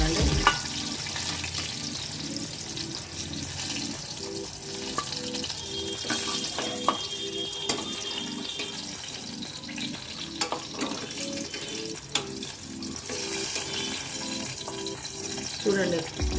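Stuffed brinjals frying in oil for a traditional South Indian curry, a steady close sizzle running throughout with scattered clinks and stirring, while a voice talks faintly at times.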